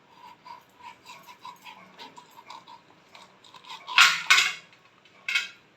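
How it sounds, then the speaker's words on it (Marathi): Knife cutting peeled, firm raw white mango into pieces, with a run of soft, regular chops followed by a few louder, sharper knocks near the end. "आता मी याच्या फोडी करून घेते आहे।"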